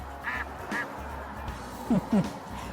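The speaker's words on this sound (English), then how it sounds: "And I think our duck friend agrees." A duck at a lake quacks in two pairs of short, nasal calls, moderately close and alone over a quiet low background hum.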